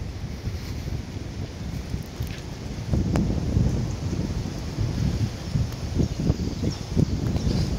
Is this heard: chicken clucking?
no